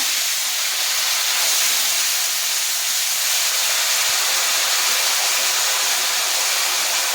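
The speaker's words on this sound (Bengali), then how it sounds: "এবার টমেটো, আদা আর কাঁচা লঙ্কার পেস্টটা ছিল সেটাও দিয়ে দিচ্ছি।" Tomato, ginger and green chilli paste sizzling in hot oil for a vegetarian curry, a steady, loud broadband hiss and crackle that holds evenly throughout with no talk.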